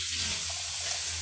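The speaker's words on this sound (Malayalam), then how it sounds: "എന്നിട്ട് നമുക്ക് അതിനകത്ത് കുറച്ച് വെള്ളം ഒഴിക്കാം." Water pours steadily into a cooking pot holding thinly sliced cucumber pieces for pachadi, a continuous even splashing hiss from start to finish.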